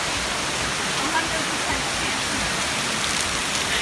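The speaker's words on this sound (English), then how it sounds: "It's just raining a little bit today." Steady rain pouring down during the rainy season, a dense, even hiss that fills the scene without break, close and constant, with no voices over it.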